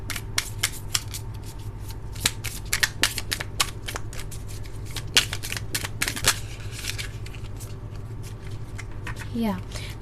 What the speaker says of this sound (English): I'll move on and pull out some more tarot cards for this section of the reading.